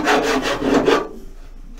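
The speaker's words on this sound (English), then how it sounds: "It's gonna be deeper with a hand file." A hand file rasps across car body metal in four quick, close strokes, a rough rhythmic scraping that stops abruptly halfway through.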